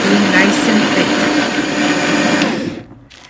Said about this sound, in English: Add the salt to taste, and then just blend away